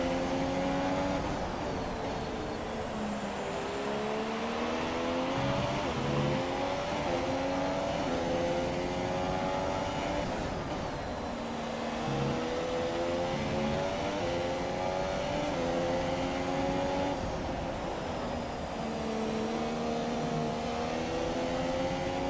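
Formula 1 cars race in a video game career mode at the Spanish circuit, engines whining continuously and rising and falling in pitch through gear changes, several cars overlapping at moderate distance.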